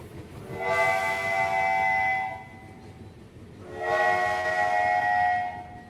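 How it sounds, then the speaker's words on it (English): Two long whistle blasts from an express train sound in succession as it lurches forward, each a couple of seconds, over a low rumbling of rail cars rolling along. "lurches forward with 2 short blasts from the train's whistle"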